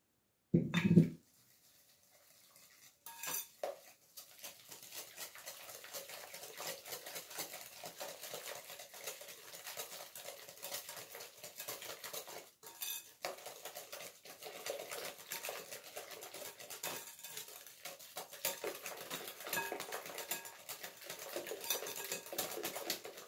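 Eggs and sugar whisked in a bowl for madeleines: a steady, quick, faint clicking and scraping of a whisk against the bowl that runs continuously after a brief bump, with no talking.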